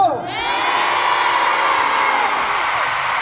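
A packed stadium crowd at a concert in Busan in 2022 roars, cheers and shouts in a loud, sustained wall of high-pitched screams that swells after a brief opening dip.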